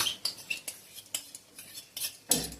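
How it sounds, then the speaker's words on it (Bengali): A spoon scrapes and clinks against a metal pot as whisked yogurt is stirred into soybean kofta curry off the heat, giving a few short, close, irregular clatters with quiet gaps between them. "ফেটানো দইটা দিয়ে আমি কিছুক্ষণ নেড়ে"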